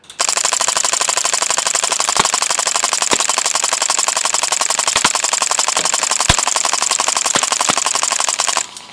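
A fully automatic WW2-style BB gun fires in one long continuous burst of rapid, dense clicks lasting over eight seconds, loud and close, with a few sharper cracks mixed in.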